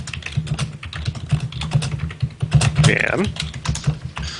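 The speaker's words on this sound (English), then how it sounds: "It's like he's hitting his keyboard with a ball-peen hammer." Heavy, forceful typing on a computer keyboard clatters in a steady stream of close, hard keystrokes, with people talking over it.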